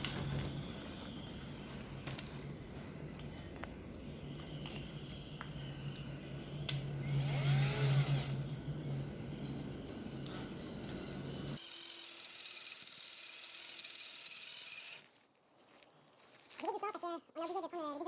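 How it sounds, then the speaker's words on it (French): A power drill bores holes in a sailboat mast during a boat restoration: a whining drone runs under ongoing talk, then a loud, harsh burst of drilling for a few seconds. "ça se perce vraiment bien"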